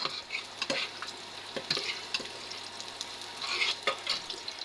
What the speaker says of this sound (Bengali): তরকারি রান্না করার জন্য কড়াই পেঁয়াজ মরিচ আর তেল দিয়ে দেওয়া হয়েছে